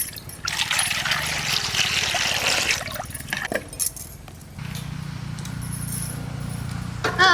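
Water is poured into a hot clay pot in a village kitchen and hisses loudly for a few seconds, then settles to a low, steady bubbling simmer close by.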